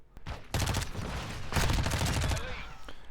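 Lachmann Sub submachine gun fire in Call of Duty: Modern Warfare II sounds as rapid automatic bursts, two dense sustained strings of shots separated by a short gap, loud and close, with faint speech underneath.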